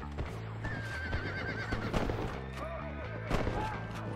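A horse whinnying in the video game Red Dead Redemption, a rising, wavering neigh over game sounds with hoof clip-clops and scattered sharp bangs, moderately quiet.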